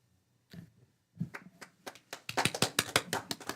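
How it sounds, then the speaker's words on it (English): A handful of people at a city council meeting start clapping, a few scattered claps at first building into quicker, louder close-up claps. "Big round of applause to you."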